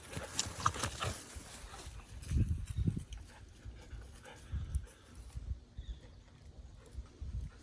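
Close, rhythmic panting from a dog playing with a stick outdoors, with soft bursts of breath and rustling.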